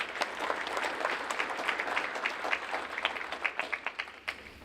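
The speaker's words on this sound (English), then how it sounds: "Please join me in a round of applause for them." An audience at a bar, media and judiciary conference applauds its sponsors with a sustained even round of clapping from many hands, steady and moderately close, thinning slightly toward the end.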